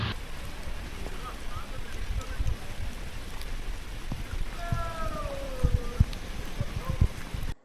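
Heavy rain in Malappuram during monsoon flooding pours down in a dense, continuous wash, with scattered louder splashes and a brief tonal sound rising above the downpour partway through.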